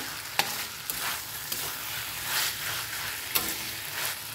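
Chickpeas fry with spices in a pan, a close sizzle broken by periodic scraping strokes of a spoon stirring, each stroke bringing a sharp click and a short swell of hissing.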